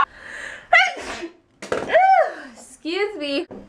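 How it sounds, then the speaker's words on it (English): A single sharp human sneeze with a quick in-breath gasp before it, loud and close, followed by a short vocal sound afterward. "I'm gonna sneeze."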